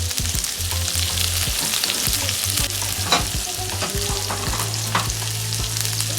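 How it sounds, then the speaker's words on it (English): Flank steak and onions sizzle steadily in a hot pan, a dense continuous frying hiss with occasional stirring scrapes and small pops, close and loud throughout with no voices. "And then I'm just going to put in the meat and allow the meat to cook."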